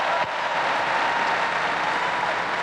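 Audience applause for national champions at a live show in Detroit, a steady wash of clapping from a crowd, moderately distant and sustained through the whole moment.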